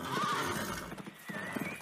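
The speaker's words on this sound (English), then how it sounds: "The princess's horse was scared. It ran away fast." A frightened horse whinnies loudly and gallops away, the shrill neigh sliding over a fast clatter of hooves, close up and with no talk over it.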